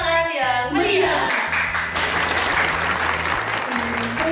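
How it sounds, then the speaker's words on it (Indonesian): An audience at an MC-hosted event applauds a CEO's welcome, the sustained clapping running under background music with a steady beat. "Mari kita beri tepuk tangan yang meriah."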